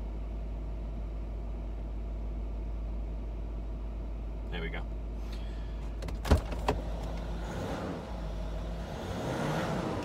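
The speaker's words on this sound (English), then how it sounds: "Let's put the car back to proper height, normal drive height." Air suspension on a Range Rover L322 3.6 TDV8 raising the car to normal drive height: a steady low compressor hum runs throughout, with a brief spoken phrase and a couple of sharp clunks partway through.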